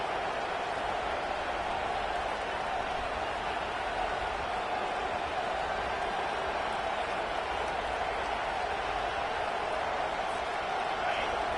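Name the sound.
home crowd roaring in football stadium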